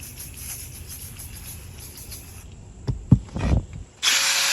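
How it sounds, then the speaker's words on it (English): A power drill brush whirs in short bursts as it scrubs a Mazda car seat, loud and close, ending in a steady high-pitched buzz. "And then I just follow it up with a drill brush."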